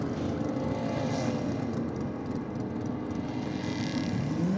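A Ford Falcon drag car running a Chevrolet engine races at Sydney Dragway, heard as a steady, fairly distant engine roar with a broad rumbling tone and no voices over it.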